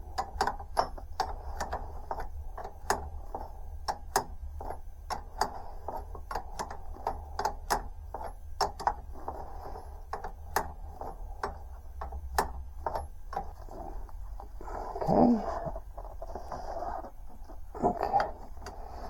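Open-end and adjustable wrenches work on the oil line fittings of a leaking oil line under repair, giving a steady run of small metallic clicks and taps, close and fairly quiet, with no talking.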